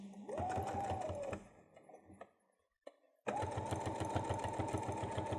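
Sewing machine basting fabric and foam together with a long stitch, running in two steady rhythmic bursts close by, separated by a short pause and a faint knock.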